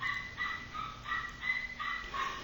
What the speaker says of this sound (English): I'm sorry about the neighbor's dogs